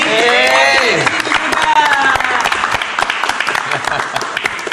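Audience applause at a launch event, dense clapping mixed with cheering and shouts, loud and close throughout, with voices and crowd noise layered over the claps.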